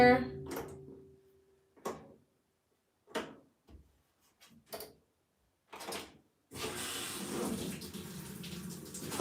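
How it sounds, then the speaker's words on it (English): Water runs steadily into a container for a couple of seconds near the end, after several short knocks and handling bumps with quiet gaps between them. "Let's put a little water in there."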